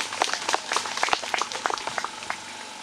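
Audience clapping at a GTI Kambia matriculation ceremony: a dense run of sharp, irregular hand claps, fairly close and steady for about three seconds, with no voices over it.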